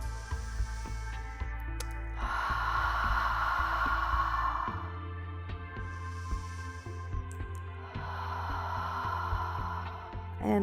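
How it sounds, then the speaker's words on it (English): Two long, slow, airy breaths taken during a slim-thighs and butt-lift yoga workout, each a soft broad rush lasting a couple of seconds, heard over a low steady hum and faint background music. "Breathing."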